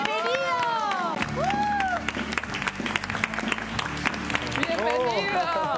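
Studio audience applauds and cheers to welcome a singer onto a Spanish TV talk show set, steady clapping running throughout while music and a host's voice carry over it.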